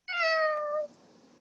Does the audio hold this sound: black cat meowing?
yes